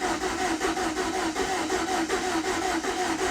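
Twin-turbo Ford Fiesta engine cranking with the fuel pump switched off and failing to start, a steady rhythmic churning of the starter that repeats evenly and close up, with no catch or firing.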